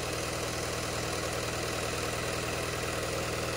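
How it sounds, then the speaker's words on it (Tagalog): Peugeot engine idling with fuel knock from injector 1, a faint, even low idle hum with a regular fine ticking pulse throughout. "may fuel knock ng engine natin kasi yung value nung sa injector number 1 is mas mataas compare dito sa tatlo"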